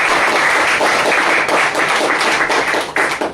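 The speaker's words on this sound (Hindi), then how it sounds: "ताली बजाइए," Congregation clapping hands loudly during a Sunday church worship service, a close, dense burst of claps that holds steady, then briefly dips and resumes near the end.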